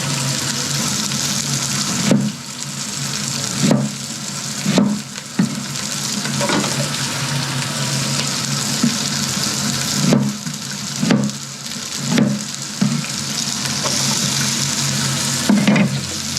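Onions pan-fry in a wok with a steady close sizzle, punctuated by regular scrapes and knocks of stirring every second or so.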